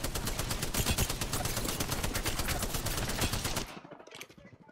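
Rapid automatic gunfire in the battle royale game Apex Legends, a dense stream of shots for several seconds before stopping abruptly, followed by faint sounds.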